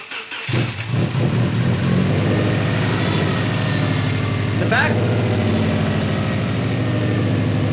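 A Subaru Legacy GT with a built transmission cranks, catches and settles into a loud, steady idle close by, with a short rise in revs partway through.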